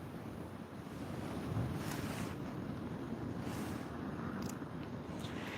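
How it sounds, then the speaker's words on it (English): Strong wind buffeting the microphone in a steady low roar, with occasional gusts swelling and fading, no voices. "I'm out here having a hot dog over the fire bowl and dealing with all this wind."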